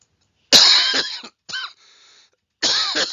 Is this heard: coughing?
yes